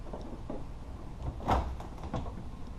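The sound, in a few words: Toyota AE86 car door opening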